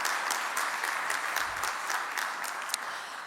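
Audience applauds the Minister's keynote at a conference on macroeconomics and geopolitics in Africa, with dense, even clapping from a large room that holds steady throughout.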